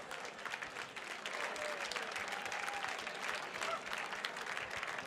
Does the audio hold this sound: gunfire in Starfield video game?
no